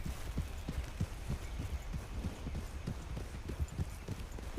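Horse hooves clip-clop steadily at a walking pace, a soft rhythmic thudding heard from close by over low outdoor background noise.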